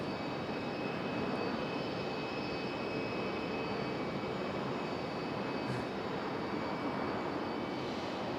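A United airliner at Raleigh Durham airport gives off a faint, continuous jet roar with thin steady whines riding on top, distant and unchanging, no voices.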